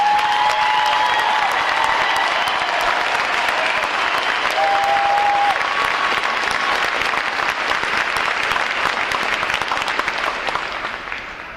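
A large crowd applauds steadily for graduating Navy recruit divisions at a boot camp ceremony, loud and dense throughout, tapering slightly at the end, with faint cheers mixed in.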